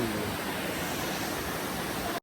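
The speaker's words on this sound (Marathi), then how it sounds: "खूप डेंजर धबधबा दिसतोय मला आता सध्या तरी" A large, dangerous waterfall roars as a steady, dense wash of rushing water, loud and continuous throughout, then cuts off abruptly at the end.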